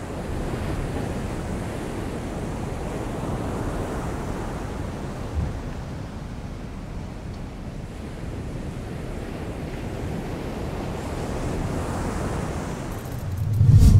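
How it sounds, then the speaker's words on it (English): Cyclone swell on the Gold Coast sends ocean waves crashing in a continuous broad roar of surf, mixed with wind buffeting the microphone, and a loud thump closes the passage. "some of the thickest waves of this swell were just too much to handle for some surfers"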